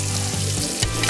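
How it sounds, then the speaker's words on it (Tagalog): Onions hitting hot oil in a pan for pork adobo, a dense continuous sizzle with a low hum underneath and one brief clatter near the end, no voices. "lagay na natin yung sibuyas"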